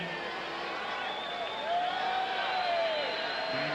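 A stadium crowd at Ivor Wynne Stadium during a 1990 CFL football game between Ottawa and Hamilton gives a distant, steady roar of cheering and approval. It swells slightly midway under a broadcast wash of noise.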